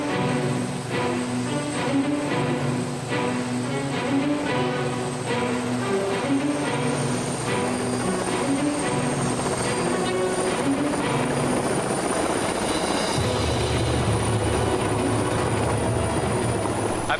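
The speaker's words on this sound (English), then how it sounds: "a helicopter tour of what San Diego has to offer in the luxury real estate market from the sky" Helicopter flying on an aerial tour over San Diego, its steady rotor chop and engine drone loud and continuous throughout, with the tone shifting to a deeper rumble near the end.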